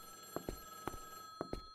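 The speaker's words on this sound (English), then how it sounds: "Oh, no, the phone's ringing again." A telephone bell rings in short, irregular bursts, faint and somewhat distant over a quiet background with a steady electronic hum.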